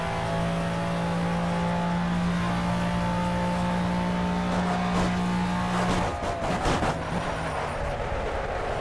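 A McLaren F1 GTR Long Tail race car in Project Cars roars loudly at a sustained high pitch mid-lap, then the engine note breaks up and scrapes as it drops toward the end.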